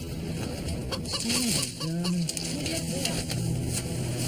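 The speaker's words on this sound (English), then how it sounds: "It's a chicken." Chicken clucking at a Survivor challenge, several short rising calls repeating across the clip over a noisy outdoor background.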